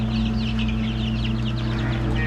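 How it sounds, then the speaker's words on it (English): Several chickens clucking and chattering together in a backyard flock, a steady overlapping chorus of short calls over a constant low hum. "there's our chickens"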